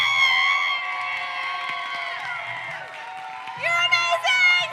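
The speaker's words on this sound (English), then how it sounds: "can everybody get on their feet and clap for these poets up here" Crowd at a teen poetry slam cheers for the slam poets with loud, sustained whoops and shouted cheers that swell near the end, while clapping stays faint underneath.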